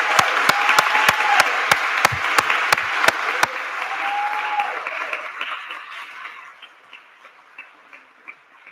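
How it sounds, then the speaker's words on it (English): Audience at a gubernatorial candidate forum bursts into loud, dense applause, strong at first and then thinning out to a few scattered claps. "A round of applause."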